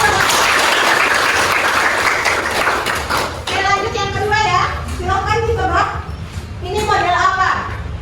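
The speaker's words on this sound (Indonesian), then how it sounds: "Oke, tepuk tangan." Classroom applause from students during a teaching-certification lesson, a dense burst of clapping in the first few seconds that gives way to a teacher's voice talking.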